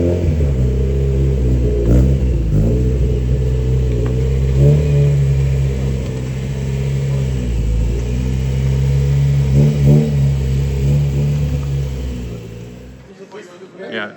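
Car engine at a car show in Los Angeles, rumbling and revving loudly nearby in rising and falling surges, with people talking over it, before it dies down near the end.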